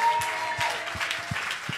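A church congregation claps steadily in a quick, even rhythm, the applause filling the room at moderate loudness with no other sound standing out.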